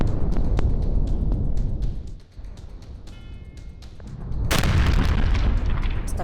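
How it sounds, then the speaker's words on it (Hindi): A gas-laden tanker explodes after crashing into a road divider on a busy road, a loud broadband boom rising sharply midway after a dip, with sustained roaring rumble and scattered pops throughout. "टैंकर में भीषण धमाका और वहां से गुजर रही गाड़ियां इसकी चपेट में आ गई।"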